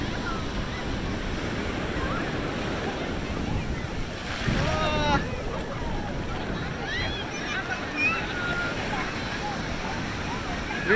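Surf washing onto Nellore beach, a steady broadband roar of breaking waves with wind buffeting the microphone, while a voice talks briefly in the middle and some faint birdlike chirps rise near the end.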